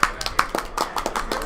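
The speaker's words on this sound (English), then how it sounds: "Clap it up." Hands clap on a podcast set, a quick run of sharp, fairly close claps in an uneven rhythm lasting just over a second.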